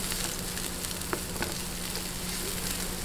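Onions sautéing in a frying pan while cooking chili garlic bangus (milkfish), giving a steady, even sizzle throughout with a few faint stirring clicks.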